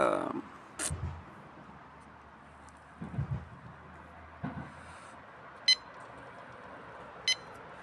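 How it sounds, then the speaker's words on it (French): Two short, sharp electronic beeps from a fishing bite alarm ring out several seconds apart, over faint outdoor background noise and occasional low thumps. "j'ai que des bips là comme ça depuis tout à l'heure"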